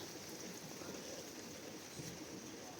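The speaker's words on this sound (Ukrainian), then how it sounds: "Фух, дощ падає." Steady rain falls outdoors at a Ukrainian rural homestead near beehives, a continuous even hiss of drops on surfaces with no talk, filling the whole stretch at moderate level.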